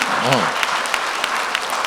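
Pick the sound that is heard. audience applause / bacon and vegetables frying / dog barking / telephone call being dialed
audience applause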